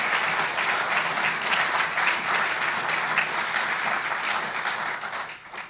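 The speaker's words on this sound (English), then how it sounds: "You can clap for those people" An audience at a Seattle mayor's State of the City address applauds steadily for several seconds, dense clapping that fades out toward the end.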